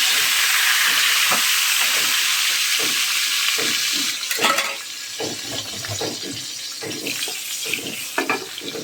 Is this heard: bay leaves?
yes